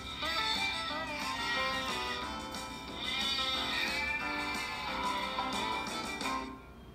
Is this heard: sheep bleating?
yes